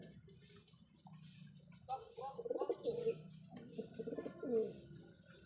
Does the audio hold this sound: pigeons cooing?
yes